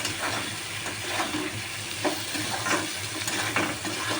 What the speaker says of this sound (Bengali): তো চলো এটা একটুখানি ভাজা ভাজা হতে থাক